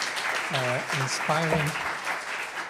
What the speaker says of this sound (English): So again, an applause for the speaker.